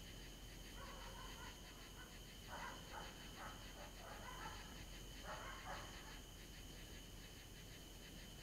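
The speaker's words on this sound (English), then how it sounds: "Can't even walk around my own property without being disturbed by barking dogs." Dogs bark in faint, distant bursts outside at night, roughly three clusters of yapping over a steady hiss of insects and background noise.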